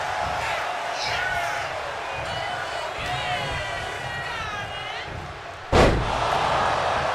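A wrestler's body slams hard onto the mat in a side suplex in a wrestling video game, one sharp heavy thud near the end, heard under steady commentary and crowd noise.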